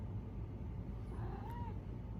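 A cat meows for treats, a faint rising-falling call that stands out once over a steady low background rumble.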